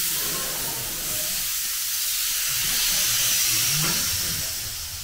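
A long, steady hiss of compressed air comes from someone working on a tyre in a garage. It swells slightly midway and then eases off, heard alone without talking.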